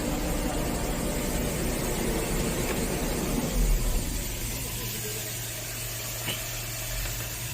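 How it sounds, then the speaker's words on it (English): A heavy machine's engine runs at low idle during commissioning, a steady, dense mechanical rumble close by that dips slightly after a few seconds and then settles into an even drone, with a brief knock near the end. "What are we going to do is to turn the engine on low idle"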